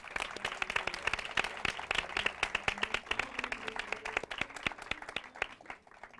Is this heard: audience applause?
yes